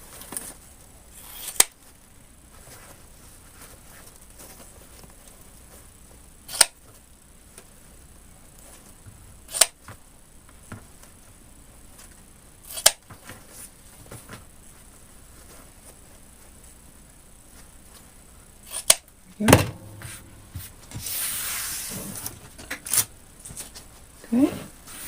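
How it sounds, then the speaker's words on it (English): Scissors snip ribbon tails for a pancake wreath frame: sharp, isolated cuts spaced several seconds apart over a quiet room, then a flurry of rustling and handling near the end. "Okay, so before I get going, I'm going to cut my tails."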